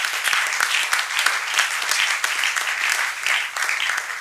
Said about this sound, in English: Yes, must applaud it, yes.